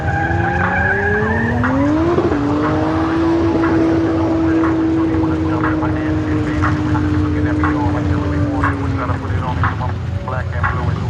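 Car tyres skid and squeal through a power skid competition, a long rising then sustained tonal screech over loud engine roar, close and continuous for the whole stretch, with a commentator's voice on the PA.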